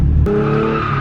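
Brief burst of a car drifting, engine droning steadily while tires skid, heard close and loud for about a second.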